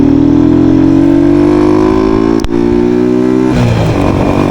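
A motorcycle engine idles and revs steadily, close and loud, with a smooth continuous drone that rises gently in pitch and then drops and settles near the end.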